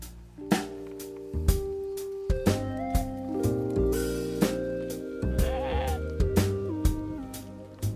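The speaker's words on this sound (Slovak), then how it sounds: "Žijú tu aj traja barani bratia so sestrou a majú veľmi radi jablčka." Rams and other sheep on a small urban farm bleat repeatedly, with overlapping wavering calls close by and a few sharp knocks mixed in, with no talking.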